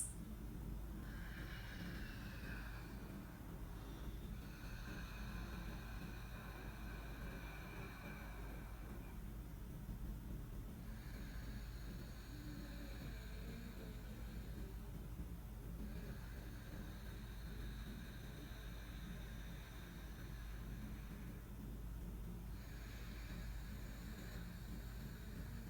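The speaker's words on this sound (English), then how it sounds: "So begin to inhale and exhale through this straw-like constriction in your throat, and it'll sound like this." Ujjayi pranayama breathing drawn through a constricted throat, slow audible inhales and exhales in a steady repeating cycle of soft hissing breaths, close and quiet with no talking.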